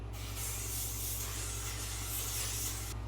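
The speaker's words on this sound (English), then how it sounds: "Blasting freeze spray." A continuous can of hair freeze spray hisses close up for about three seconds, a steady bright blast with a low hum underneath, then cuts off.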